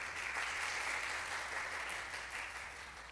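A church congregation applauds steadily, a dense wash of clapping that holds at an even, fairly loud level from start to finish with no voices standing out.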